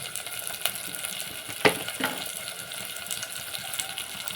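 Goat head curry fries in a pan with turmeric and salt, a low steady sizzle broken by a couple of scrapes and knocks from stirring, close and fairly quiet.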